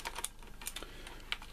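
Fingers type on a Razer BlackWidow Ultimate mechanical keyboard with blue switches, a quick, fairly faint run of clicky keystrokes heard up close with no voices.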